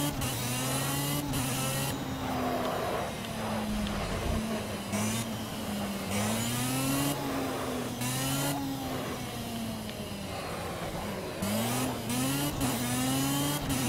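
Race car engine in the Project CARS racing game on Xbox One, loud and continuous, repeatedly revving up through the gears and dropping back on turns, with tyre squeal, alone with no talk.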